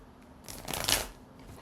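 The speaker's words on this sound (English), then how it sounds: "I want to make sure I give these cards a really good shuffle." A single quick riffle of tarot cards swells and fades within about a second, close and fairly soft against a quiet room.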